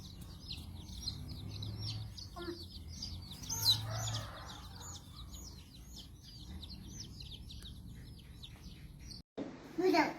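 Chickens peep and chirp in quick repeated high calls throughout, over a low steady rumble, with a brief clatter right at the end.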